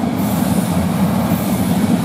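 The Eurocity passenger train from Munich to Bologna rumbles steadily past at close range on the Brenner north ramp, with a constant low roar of wheels on rails and no voices.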